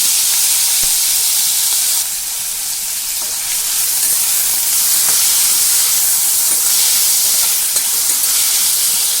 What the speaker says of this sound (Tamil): சோம்பு நல்லா வெடிக்குது கருவேப்பிலையோட வெங்காயத்தை சின்ன சின்னதாக கட் பண்ணி